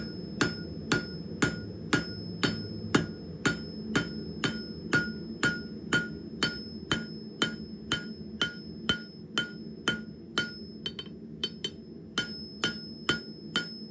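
Hot steel for a fire poker is struck on an anvil in a steady, even rhythm, about two ringing hammer blows per second, clear and close, with a quick flurry of lighter taps near the end.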